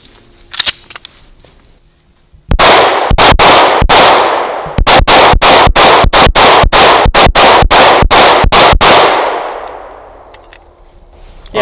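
Canik pistol, a MC9 Prime or TTI Combat, fired at a shooting range: two loud sharp shots, then a rapid string of about twelve evenly spaced shots, each with a ringing echoing tail, no talking.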